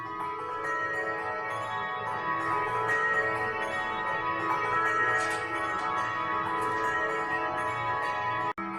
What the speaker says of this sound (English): Here's a rotating wheel with bells on it.